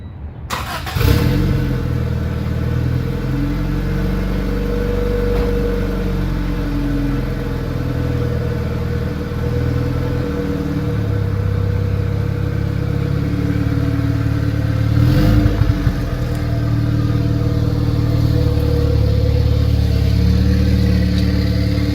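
A Honda D16Z6 turbocharged engine fires up in a car on a test run, then settles into a loud, steady idle with a brief rev swelling midway, heard up close without voices.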